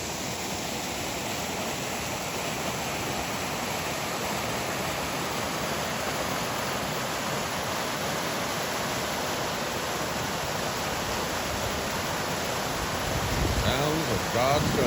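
A roadside waterfall feeding a creek in the Great Smoky Mountains gives a steady, dense rush of falling water that stays loud and unbroken throughout.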